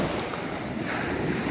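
Ocean waves wash onto a provincial shoreline in a continuous, loud surging roar, with heavy wind buffeting the microphone and no voices.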